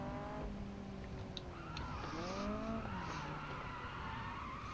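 A car is driven in a video game, with a faint, steady engine note that climbs and drops in pitch as it revs and shifts, plus a brief squeal of tires.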